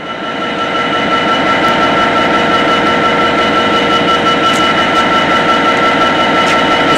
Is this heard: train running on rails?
yes